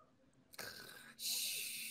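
A voice imitates snoring during a sound-guessing party game: a sudden breathy snort-like burst followed by a louder, sustained rasping hiss, close and clear with no other talk.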